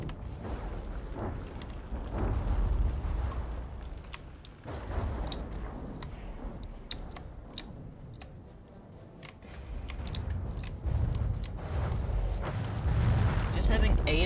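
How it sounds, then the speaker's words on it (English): Eight APS cannons in From the Depths fire in heavy, repeated booming volleys, a dense rumble of blasts with sharp cracks scattered throughout while a person talks over the gunfire. "cannons, like those APS cannons firing all at once is just insane"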